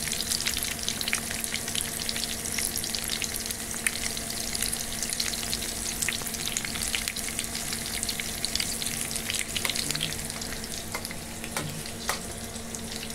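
Food fries in a pan with a steady, dense sizzle and crackle that holds at an even level, with occasional sharper pops and stirring sounds and no talking.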